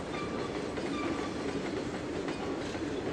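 A passenger train passing on a yard lead in the Trainz 2022 railway game, a continuous rumbling roll with faint rhythmic clatter of wheels, steady and fairly close throughout.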